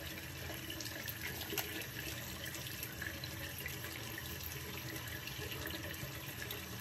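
Tap water runs steadily into a sink during a morning face wash with a clear gel cleanser, a continuous close splashing rush with no talk.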